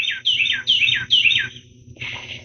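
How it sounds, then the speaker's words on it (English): Birds chirp loudly outdoors, a rapid series of bright descending calls in quick bursts, close and prominent, followed by a softer trailing call, with no talk. "You can probably hear those birds. They're kind of loud."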